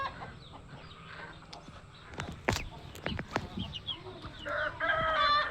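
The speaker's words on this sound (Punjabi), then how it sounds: "ਸਾਡਾ ਇਹ ਕੁੱਕੜ ਬੋਲਦੇ ਨੇ ਪਏ।" Chickens on a small poultry farm, with roosters crowing several times in loud bursts and hens clucking in between, against a steady outdoor background.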